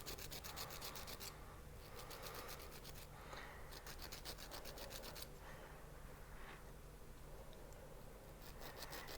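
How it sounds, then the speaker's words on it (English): Rapid rasping strokes of a file cleaning up the seam on a fired silver clay bezel wire, heard in quick repeated bursts separated by short pauses, close and fairly quiet, with no voice. "now that our bezel is fired, we're going to go ahead and clean up that seam"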